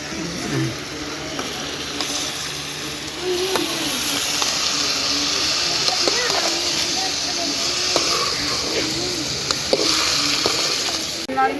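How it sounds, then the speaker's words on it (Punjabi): Taro (arbi) frying in a pan in a village kitchen, with a steady loud hiss and sizzle and occasional stirring scrapes, a voice talking over it. "ਨਾਲ ਮੈਂ ਅਰਬੀ ਵੀ ਫਰਾਈ ਕਰਦੀ ਰਹਿੰਦੀ ਹਾਂ"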